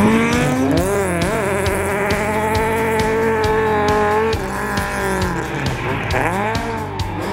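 An SR20-powered Datsun 1600 slides through a tarmac rallysprint, its engine wailing up and down with rapid shifts and pops, tires squealing at times, loud and continuous.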